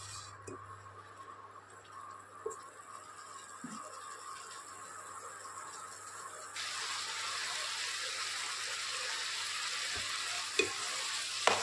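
Spice paste frying in a pan and being stirred, a low crackling sizzle that swells louder partway through, with occasional utensil knocks against the pan.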